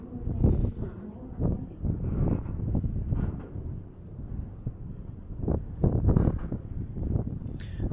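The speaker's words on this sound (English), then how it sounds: "you don't have to hear all this wind the whole time" Strong wind on a street walk along Bay Ridge Avenue in Brooklyn, New York City, buffets the microphone in heavy, uneven gusts that rumble and roar throughout, with no clear voices.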